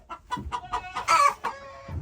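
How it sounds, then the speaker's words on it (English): A hen that has wandered indoors clucks in a quick, close series of short calls, ending in a louder drawn-out cackle near the end. "the chicken came in"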